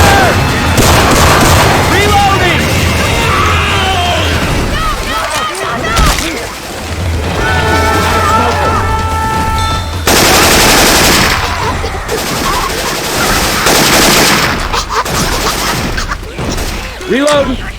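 Rapid automatic gunfire and heavy weapon blasts from Syphon Filter sound effects modded into the zombie shooter Left 4 Dead 2, loud, dense and nearly continuous bursts with game noise and chatter under them.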